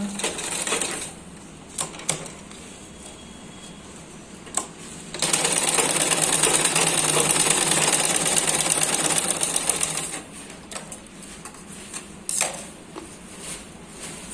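A domestic sewing machine runs in a steady whirring burst of several seconds while stitching elastic on a dhoti salwar, framed by short clicks and handling taps before and after.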